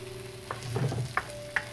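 Ground-meat keema with tomato sauce sizzles softly over a high flame as a spoon mixes it, a low frying hiss broken by a few sharp scrapes and clicks, close and fairly quiet.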